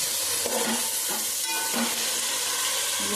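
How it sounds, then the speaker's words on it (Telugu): Ground spices and masala for beef biryani frying in a pan: a loud, dense, continuous sizzle and hiss close by, with faint stirring scrapes underneath. "ఈ బాగా వేయించుదాం ఇవన్నీ కలిపి"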